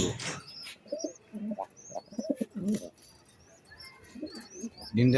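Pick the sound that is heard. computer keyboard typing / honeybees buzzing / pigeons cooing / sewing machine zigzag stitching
pigeons cooing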